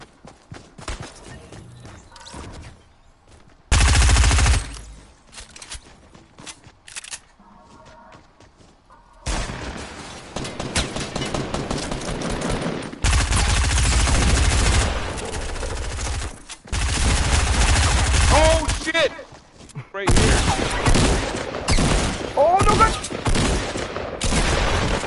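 Gunfire in the video game Fortnite, with loud bursts of rapid shots alternating with quieter stretches and gaps.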